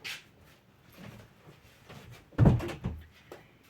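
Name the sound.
door being closed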